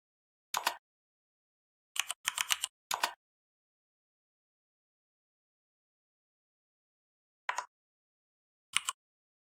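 Keys on a computer keyboard click out a short Linux terminal command in a few quick bursts of taps separated by silence, crisp and close.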